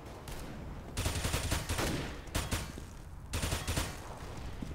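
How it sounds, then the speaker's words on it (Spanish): Rapid bursts of automatic gunfire from a first-person shooter video game, three loud clusters of shots separated by brief lulls, with no talking over them. "Mira cómo le dispara"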